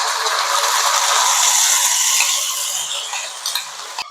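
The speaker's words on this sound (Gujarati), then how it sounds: "આપણે ગ્રેવી નાખી દીધી છે. સરસ મજાનું મિક્સ કરીને થોડીક સડવા દઈશું." Gravy poured over sautéed onions in a pan and stirred for gaadiya tameta, giving a steady close scraping and sizzling swirl that thins toward the end, with a few light clicks.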